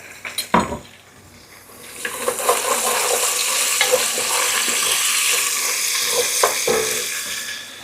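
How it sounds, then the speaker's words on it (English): Fresh basil goes into a hot pan of sausage and chickpeas for ditalini. A few sharp clinks of a utensil come first, then a loud, steady sizzle and frying hiss builds and carries on while the food is stirred. "chuck in the basil"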